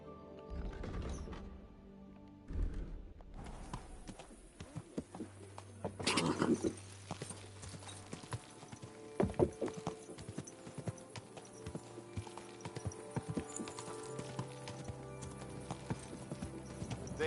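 Horse hooves clip-clop quickly in a galloping rhythm in the video game Kingdom Come: Deliverance II, mixed with game effects and a brief low tone, moderately quiet and steady throughout.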